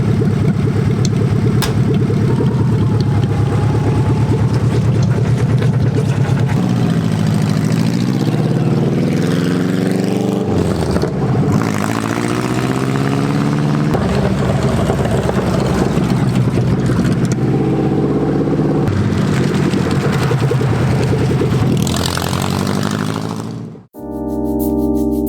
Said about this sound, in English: gonna drive it up and down the street and make sure everything's okay.